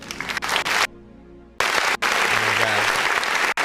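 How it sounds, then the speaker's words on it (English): Sharp, loud clap hits repeating through a dense music track from an independent artist, standing out in the mix with a short quieter break in the middle. "I knew this clap was gonna be good."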